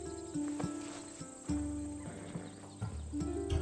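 Horse hooves clip-clop in Assassin's Creed Odyssey, a steady rhythmic stepping under a bed of game music and ambience, moderately close and not loud.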